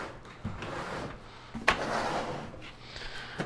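A drawer on a small, worn home toolbox with some broken drawers slides open, a single short scraping rattle at moderate volume followed by a sharp clack, set against quiet room noise.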